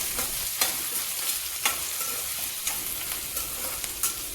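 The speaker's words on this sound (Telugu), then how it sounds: "కడాయి తీసుకొని తగినంత ఆయిల్ జీలకర్ర ఆవాలు పచ్చిమిర్చి కరివేపాకు ఆనియన్స్ వేసుకొని బాగా ఫ్రై చేసుకోవాలి" Cumin, mustard seeds, green chillies, curry leaves and onions frying in oil in a kadai, giving a steady close sizzle with occasional sharp pops and stirring clicks.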